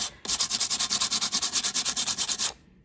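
Hand sanding strokes rubbing paint off a decorative wooden jewelry box, a steady run of about twenty quick, even back-and-forth scrapes, close and loud, with no talk.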